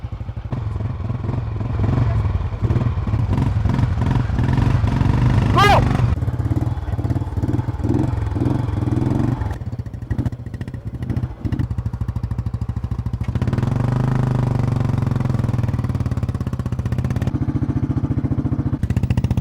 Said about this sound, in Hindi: ये यानी मोटरसाइकिल की सवारी अरजान के स्ट्रॉन्ग पॉइंट्स में से एक है।